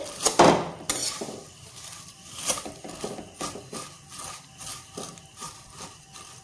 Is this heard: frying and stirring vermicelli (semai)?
yes